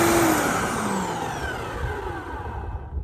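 A SunJoe electric scarifier and dethatcher whirs up loudly at close range, a steady buzzing motor drone with a falling whine that settles into an even running tone.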